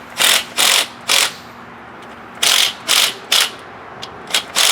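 Power torque gun tightening transmission bolts on a 1967 Checker Marathon during a Vortec 4200 engine swap, giving short loud rattling bursts, three then several more, with brief pauses between.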